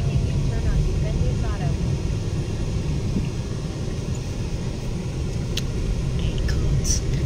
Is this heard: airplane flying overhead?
yes